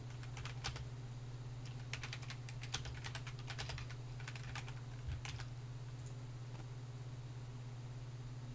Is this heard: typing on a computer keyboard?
yes